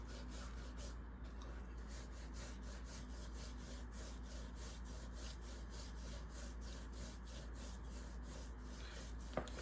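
Salt rub being worked by hand onto meat for biltong, a soft, continuous scraping and rubbing texture with faint rhythmic strokes, close and quiet, with no talking.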